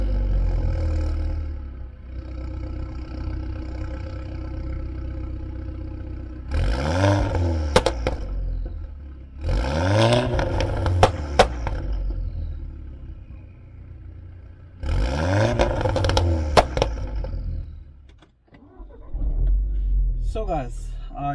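A VW Golf 6 R engine idling with a low, steady rumble, broken by three sharp revs that climb and fall at about 7, 10 and 15 seconds, with a person talking between them.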